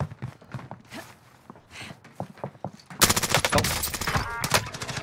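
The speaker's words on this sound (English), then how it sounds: "They're shooting at me!" Video game gunfire from a GRAU 5.56 rifle: quiet scattered shots and footsteps at first, then a sudden loud burst of dense, rapid automatic fire that continues to the end.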